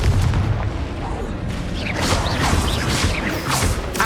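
Confringo blasting spells explode in Hogwarts Legacy, giving heavy booms and crashing bursts with whooshing sweeps over a loud low rumble, while voices speak during the combat.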